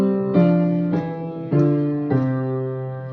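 Five single piano notes played one after another with fingers one through five, each struck cleanly at an even, unhurried pace and left ringing, close and alone.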